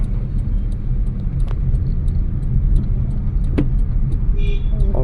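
A car moving slowly on a road during a driving lesson gives a steady low engine rumble and road noise throughout, close and even, with a couple of faint clicks.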